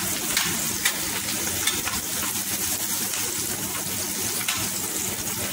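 Onion and garlic sizzle and fry in a pan while being sautéed, a loud, steady crackling hiss up close with light stirring scrapes and no talk.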